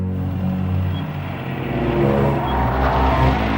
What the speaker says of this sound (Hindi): अरे ये तो दिव्या मैडम की गाड़ी निकल गई यार